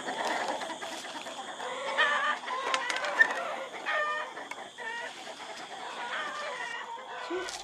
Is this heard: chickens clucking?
yes